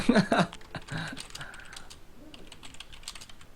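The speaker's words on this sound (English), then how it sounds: "I'm typing really nasty stuff right now." Quick, irregular clicking of fingers typing on a computer keyboard during a late-night Halo 5 gaming session, faint and close, with brief talk and background noise at the start.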